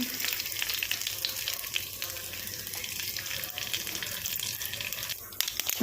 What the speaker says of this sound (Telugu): ఆయిల్ అయితే పెట్టాను హీట్ అయింది ఉప్పు వేస్తున్నాం